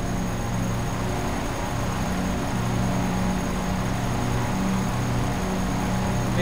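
Steady droning roar of a P-51D Mustang propeller engine in the DCS flight simulator, a continuous dense hum with a faint high whine, unchanging and loud throughout.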